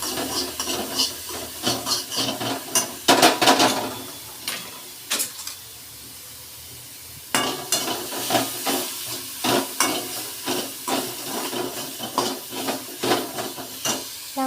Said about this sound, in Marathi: थोडीशी चिमूटभर हळद आणि मिरचीचं वाटण टाकून परतून घेऊया